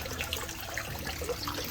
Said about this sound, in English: this really adds a lot of oxygen to the water with all the falls